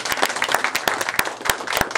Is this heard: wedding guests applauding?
yes